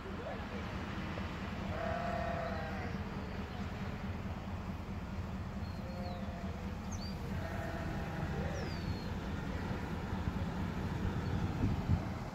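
Sheep used as grazing mowers in Lincoln, California bleat several times at middle distance over a steady low rumble of passing traffic.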